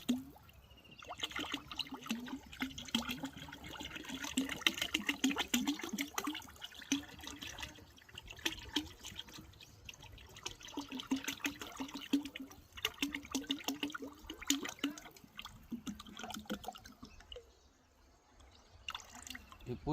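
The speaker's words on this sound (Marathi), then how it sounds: "हे पूर्ण 5 लिटर आपण 200 लिटरमध्ये टाकलेलं आहे." Liquid fertilizer from a 5-litre can splashes and trickles into a 200-litre water tank, a faint, uneven gurgle and drip that runs on and off beneath a voice.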